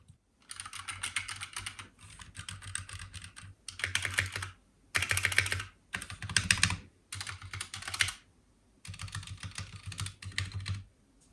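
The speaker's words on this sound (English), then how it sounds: "that was the sound comparison of Cherry MX Red switches against the Cherry MX Red silent switches" Typing on keyboards with Cherry MX Red and silent Red switches comes in several separate bursts of rapid, close-up key clicks and clacks, with short pauses between the bursts and no talking.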